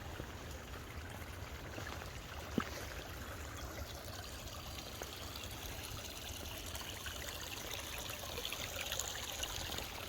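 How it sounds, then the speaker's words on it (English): A river along the Appalachian Trail runs with a steady, broad rushing and trickling that holds at an even level throughout, with no voices over it. "What a beautiful river."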